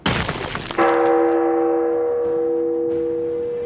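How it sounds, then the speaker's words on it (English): A big church bell strikes once, loud and close, then its deep tone rings on and slowly decays. "all you hear is the time passing, the big church bell ringing."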